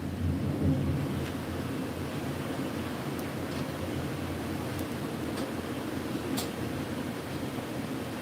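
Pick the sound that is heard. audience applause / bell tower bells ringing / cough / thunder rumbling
thunder rumbling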